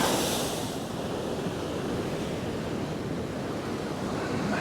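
Winter sea surf on a Northumberland beach: a continuous broad wash of breaking waves with wind buffeting the microphone, a louder surge at the start then steady roar, no voices.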